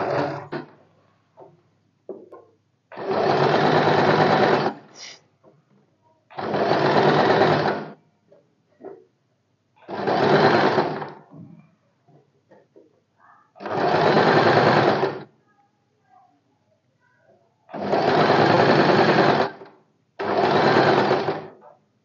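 A sewing machine stitches a katori blouse in six loud, close bursts of rapid whirring, each lasting one to two seconds and separated by quiet pauses with faint handling noises.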